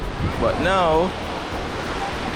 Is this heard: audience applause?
no